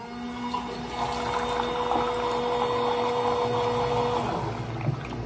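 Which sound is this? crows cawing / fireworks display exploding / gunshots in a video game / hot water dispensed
hot water dispensed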